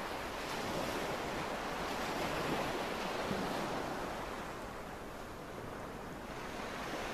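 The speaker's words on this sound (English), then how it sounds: "Looks like some cold waves coming in." Steady roar of ocean surf on a snowy US East Coast shoreline in the VR game Real VR Fishing, a continuous broadband wash of waves with wind, moderately loud throughout.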